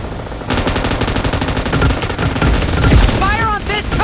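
Sustained automatic gunfire from the mobile battle-royale game PUBG Mobile, a loud continuous burst of shots with sweeping whistling effects near the end, with voice callouts mixed in.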